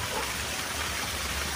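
A forest waterfall pours down between two trees, a constant broadband rushing wash of falling water, close and steady throughout with no voices.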